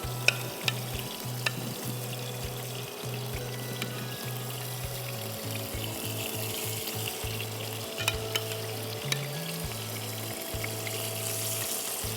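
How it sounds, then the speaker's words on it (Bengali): Pieces of chicken sizzle on a hot grill with a steady, close frying hiss, while a faint low hum and occasional small clicks sit underneath. "আমি এখন চিকেনগুলো গ্রিল করে নিব"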